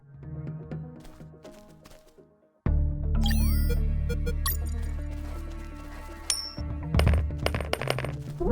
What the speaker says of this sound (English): guards love picking up free coins off the ground